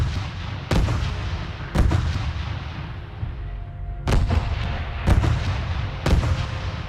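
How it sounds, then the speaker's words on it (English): Planetary bombardment in the space strategy game StarDrive, a slow series of deep booming blasts, about six heavy impacts spaced a second or more apart, each with a rumbling decay over a dense low roar. "So we'll just leave the bombardment going for here for a little while, I guess."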